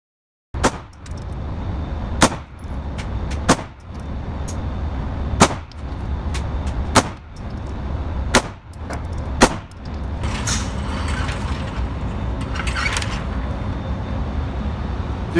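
Pistol gunshots fired outdoors, about seven sharp, loud cracks spaced one to two seconds apart, each followed by a short ringing tail, then a stretch of steady background noise.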